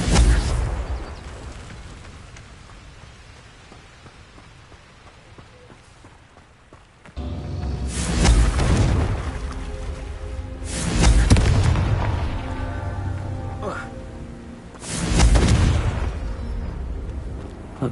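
A Confringo fire spell explodes in Hogwarts Legacy, giving three loud booming bursts a few seconds apart with rumbling, crackling tails, after a quieter stretch of ambient noise.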